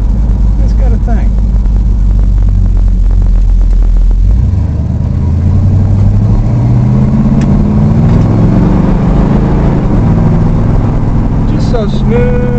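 A car engine rumbles steadily and loud while driving, its low drone rising and falling in pitch with some rattling from loose center caps, with someone talking over it at points.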